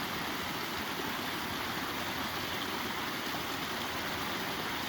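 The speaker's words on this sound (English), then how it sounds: "babbling brook, nice little waterfall" A babbling brook and a small waterfall in Fern Grotto, Golden Ears Park, Maple Ridge, British Columbia, give a soft, continuous rush of running water heard from a distance.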